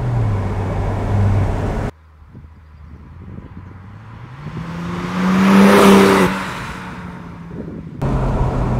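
A 2010 Porsche 997 Turbo Cabriolet with 500 PS accelerates, its engine note climbing steadily to a loud, strained peak before easing off, set between abrupt cuts of other road noise.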